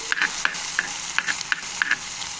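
Drumstick flowers frying in a pan are pushed aside with a spatula, giving a run of about seven quick scraping stir strokes in an irregular rhythm over a continuous close sizzle.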